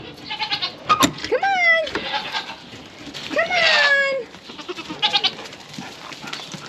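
Goats being let out into a yard bleat in a few loud, wavering cries near at hand, with scattered shuffling and a person briefly calling to them.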